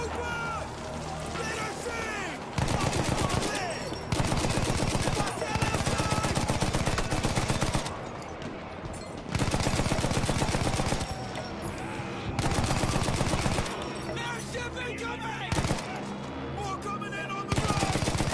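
Rapid gunfire and bursts from the World War I shooter Battlefield 1, with loud sustained firing and explosions in dense waves, cutting in and out, while people talk excitedly over it.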